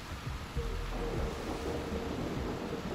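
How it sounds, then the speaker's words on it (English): Thunderstorm in Far Cry 3: a steady wash of rain with low rumbling thunder rolling underneath, continuous and moderately loud with no talking. "Ooh, lightning storm. How cinematic."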